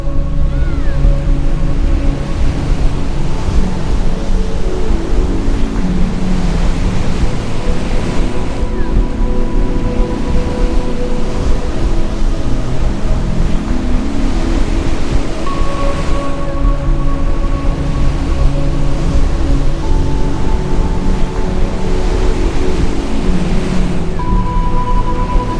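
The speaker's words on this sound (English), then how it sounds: "with those waves just smashing against the rocks there" Ocean waves smashing against rocks on the South West coast of Western Australia, a loud continuous roar of surf with heavy wind buffeting the microphone and no voices.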